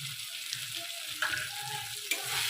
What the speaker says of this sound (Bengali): দিয়ে ভালো করে মশলাটাকে আমি কষে নেবো